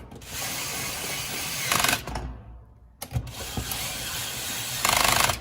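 A ratchet tightens the opposing nuts in a star pattern on the head of a sump pump during a capacitor change. Loud, close, rapid clicking runs in several bursts, broken by a short pause and a metallic clunk.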